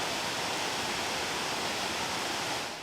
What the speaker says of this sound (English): I'll show you the weir just to my left hand side as well on the river